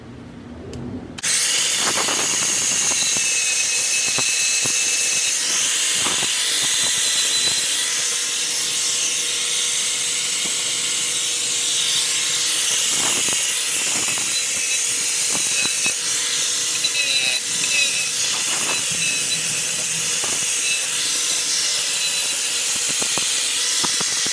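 A 4.5-inch angle grinder runs steadily against metal ferrule ends for about twenty seconds, a loud, continuous high-pitched whine and rasp with small shifts in pressure.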